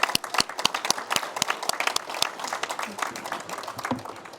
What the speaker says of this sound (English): let's give another round of applause to the winners